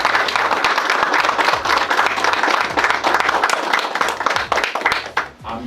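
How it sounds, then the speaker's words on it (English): An audience claps at a care awards ceremony in Hertfordshire, a dense, lively round of applause that stays loud throughout before tapering near the end, with crowd murmur mixed in. "So can we have a clap for everybody?"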